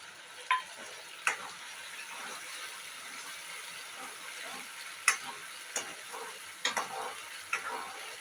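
Khandvi curry sizzles steadily in hot oil after green garlic goes in, a constant frying hiss with scattered sharp pops and ticks of spattering, no voices.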